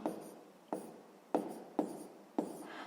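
Marker or chalk strokes on a board during a sixth-grade maths lesson: five short, sharp scratching bursts at a fairly even pace, each fading quickly, close and fairly quiet, with no talking.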